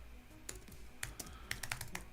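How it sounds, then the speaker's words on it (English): Soft, irregular keystrokes on a computer keyboard, quiet and close, with a short burst of taps toward the end. "I keep on typing the W at the end of hello."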